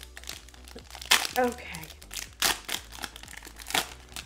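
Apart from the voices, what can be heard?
ripping open a Pokemon card booster pack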